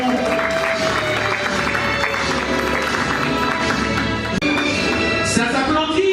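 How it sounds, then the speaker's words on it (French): Audience applause at a professional graduation ceremony in Lomé, Togo, a continuous crowd clapping with music or tonal sounds running beneath it and a brief dip near the end. "D'accueillir avec un tournée d'applaudissements."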